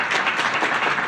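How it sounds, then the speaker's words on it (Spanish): Audience applause at a Chilean presidential event, a brief, even wash of many hands clapping at moderate loudness. "Aquí les pido un aplauso porque fue un proceso realmente innovador del cual estamos muy orgullosos."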